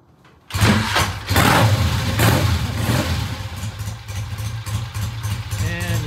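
Vintage British motorcycle engine starting after carburetor priming, a brief crank then catching into a loud, close, rumbling idle with uneven revving that continues steadily to the end.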